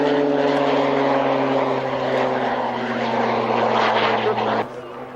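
A Tucano trainer turboprop fitted with a Garrett TPE331 engine of 1100 shaft horsepower passes at an airshow, a loud steady droning roar with strong low propeller tones that drops away sharply near the end.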